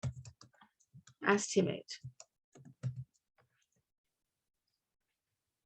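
Keystrokes on a computer keyboard, entered while building an Excel spreadsheet, come as light scattered clicks beneath a person talking close by, and the clicking fades to near silence in the last couple of seconds.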